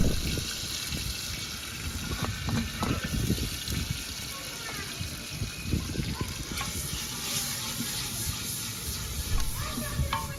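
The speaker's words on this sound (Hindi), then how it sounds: "बाद में प्याज डालकर भून लेंगे।" Onions fry in a pan while chicken and teenday are cooked village-style in a clay pot. A dense sizzle and gushing hiss run under low rumbling handling noises and intermittent talk nearby.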